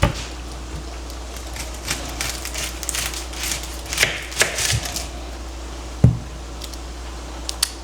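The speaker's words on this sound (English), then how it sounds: "so let's chop this onion up, dice it up" A knife chops an onion on a board for making homemade Hamburger Helper, giving light, irregular taps and knocks with one louder thud, close up over a steady low hum.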